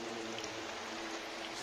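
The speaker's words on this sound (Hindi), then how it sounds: "कूलेंट गिर रहा है ना, बहुत ही कूलेंट है, तो पानी जैसा लग रहा है" Engine coolant drains out of a Maruti Ertiga ZXi during a major service, a continuous watery pouring stream, steady and fairly faint with no talking.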